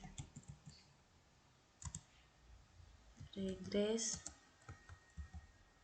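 Quiet clicking of computer keyboard keys while typing code into a statistics program, a few scattered taps with a short burst in the middle, faint and close under light background sounds.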